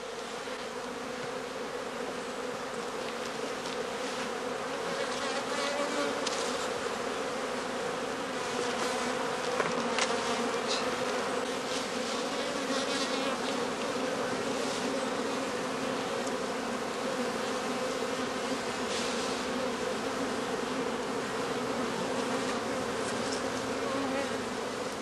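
Honey bees from hundreds of straw skep hives in a heather-honey apiary drone in a dense, continuous buzz, close and steady with no talking.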